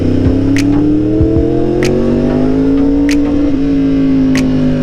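A modern cafe racer style motorcycle riding past, its engine droning loud and close with a steady pitch that shifts slightly as it goes by, plus a few sharp clicks on top.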